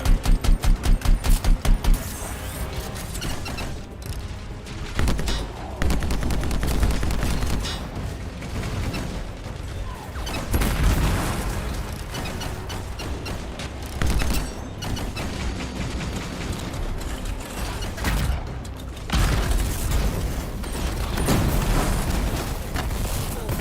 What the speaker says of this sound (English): Machine's shooting everywhere.